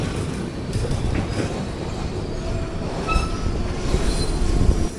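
The Kakinada Port - Sainagar Shirdi Express slows to a stop, with a close, steady rumble of rolling coaches, brief thin wheel squeals and rhythmic track clatter growing a little louder toward the end.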